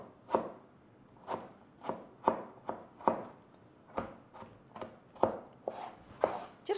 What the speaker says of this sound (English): start chopping it like this.